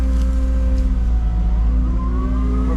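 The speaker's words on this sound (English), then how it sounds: "the skid steer does okay stripping topsoil" A Cat 299C skid steer stripping topsoil gives a steady, loud engine drone with slowly shifting pitch that rises toward the end, continuous and close throughout.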